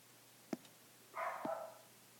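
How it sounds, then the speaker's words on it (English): A dog barks faintly in the distance, two short yips about a second apart, with a brief muffled burst of noise between them in an otherwise quiet room. "If you could hear my dog barking in the background, I do apologize for that."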